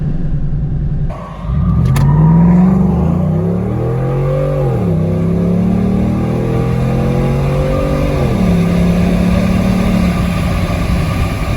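A Ford F-150 pickup with a Coyote V8 revs hard and accelerates up a hill, the engine note climbing in long pulls with brief drops between shifts, loud and close throughout.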